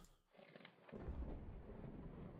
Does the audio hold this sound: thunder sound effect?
yes